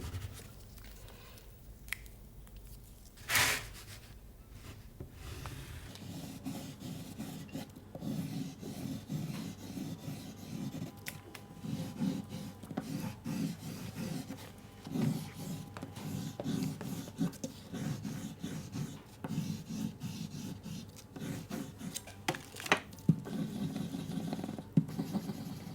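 A wax crayon rubs across paper, drawing lines for wax resist art: a faint, close scratchy rasp in short repeated strokes that continues with small pauses over a quiet background.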